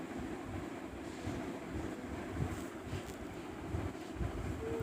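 A pot of water with salt, cumin and vinegar at a rolling boil gives a steady, dense bubbling rush, close and even throughout with no talk.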